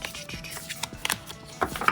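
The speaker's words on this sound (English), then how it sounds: "Let's do some shuffling here with my Dove deck." A deck of tarot cards being shuffled by hand, with soft, close papery riffles and slaps arriving in short irregular bursts.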